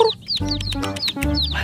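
Chickens cluck close by in repeated short, bright bursts, with rustling and a low rumble underneath and no talking.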